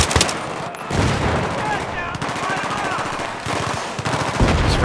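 Rapid automatic rifle fire in the Battlefield 3 campaign mission Operation Guillotine, loud bursts of gunshots with short pauses between volleys, a player's voice talking over the shooting.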